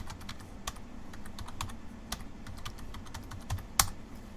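A script is typed on a computer keyboard in a steady stream of close, fairly quiet key clicks over a low background hum, with one sharper tap near the end and no talking.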